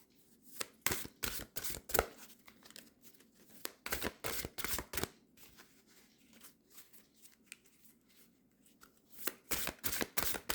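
Large oracle cards are shuffled in repeated bursts of riffling and sliding, close and fairly loud, with short pauses between rounds.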